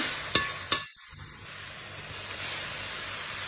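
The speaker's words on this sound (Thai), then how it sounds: "ใส่หมูลงไปเลยจ้า พักหมูให้สุกก่อน" Pork stir-fries in a pan for instant noodles: two sharp utensil clinks open a steady, close hiss and sizzle that continues to the end.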